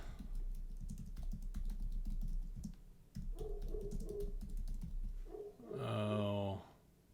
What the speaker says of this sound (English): you have to type in the term